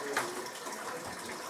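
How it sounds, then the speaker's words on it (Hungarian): Medicinal spring water flows steadily at an outdoor bathing site, a faint, continuous splashing trickle heard from a short distance with no one talking. "folyik a víz is."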